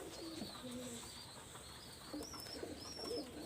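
Flying pigeons of imported bloodline coo faintly in low, murmuring calls, with a few higher chirps scattered through a quiet background.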